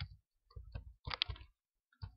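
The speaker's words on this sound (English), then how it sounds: "I'm just going to type one line of code" Several short bursts of computer keyboard clicks as a line of code is typed, quiet and close, separated by brief pauses.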